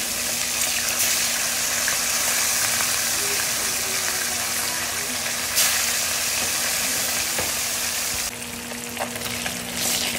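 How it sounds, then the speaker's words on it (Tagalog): Tilapia frying in a pan sizzles loudly and continuously, a dense crackling hiss of hot oil that holds steady, with a brief stir partway and a slight drop near the end. "piprito natin yung tilapia"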